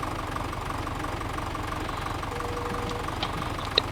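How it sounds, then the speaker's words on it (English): Steady idling of a tractor engine in Farming Simulator 17, a continuous low rumbling drone with slight knocking pulses, close and even in level, with no talk. "This tractor looks really nice with this loader in my opinion."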